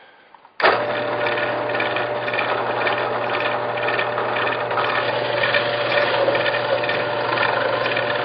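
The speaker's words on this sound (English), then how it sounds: "I'm going to start off with a 3/4 inch drill bit" A drill with a 3/4 inch Forstner bit starts abruptly and runs steadily, a loud, close grinding whir with a rattling edge.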